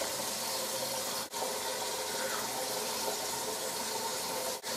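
Lukewarm tap water runs steadily into a sink for rinsing, a close, continuous rushing hiss with two brief interruptions.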